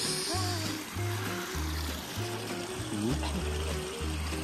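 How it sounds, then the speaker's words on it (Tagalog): A stream flows steadily at Donghwasa temple, a broad rushing wash of water heard throughout, with people talking over it and a low rhythmic hum in the background. "Hindi pala ilog to. Stream. Batis."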